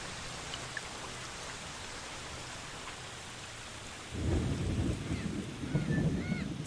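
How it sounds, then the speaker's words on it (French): Steady rain hisses throughout, then a deep rumble of thunder rolls in partway through and swells, continuing loud under the downpour. "Écoute juste le son de la pluie."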